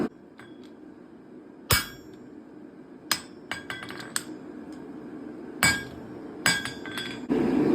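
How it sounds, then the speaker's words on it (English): A hammer strikes a blacksmith's guillotine tool to isolate a forged dragon-head door knocker. Sharp ringing metallic blows arrive at irregular intervals over a low hum from the forge. "I'm going to go ahead and isolate the knocker with my guillotine tool here."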